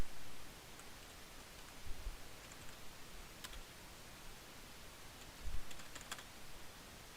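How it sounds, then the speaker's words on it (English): Computer keyboard typing at a desk, soft irregular key taps in short bursts with pauses, faint and close against low room hiss, no one speaking. "bear with me while I type this up in here"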